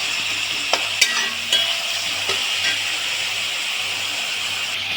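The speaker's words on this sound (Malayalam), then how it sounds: "തക്കാളി ഇതിനോടൊപ്പം തന്നെ ചേർത്ത് നന്നായിട്ട് ഉടച്ച് വാട്ടിയെടുക്കും" Onion, tomato and spice masala sizzle steadily in a pan, a continuous close frying hiss broken by a few sharp utensil clicks and taps.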